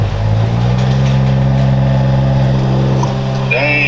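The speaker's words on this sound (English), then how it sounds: "this dude's gonna get in his car and crank it up" A car engine in snowy weather is cranked up and settles into a loud, steady low idle close by. A short rising whine comes near the end.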